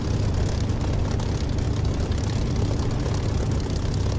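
A Spitfire's piston engine in the DCS flight simulator runs at a steady, heavy roar with deep low rumble and propeller drone, loud and continuous with no voices.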